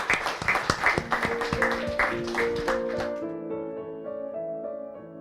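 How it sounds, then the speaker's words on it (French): Audience at a bookshop talk in Toulouse applauding, a brief burst of close, rhythmic clapping that fades out as sustained music takes over. "On peut applaudir Esther Demoulin en particulier."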